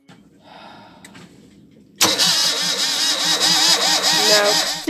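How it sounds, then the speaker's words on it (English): A sailboat's diesel engine with a newly fitted exhaust elbow is quiet at first, then cranks and roars to life, running loud and close with a steady, rough drone. "Our new elbow was soon fitted and it was time to test the engine."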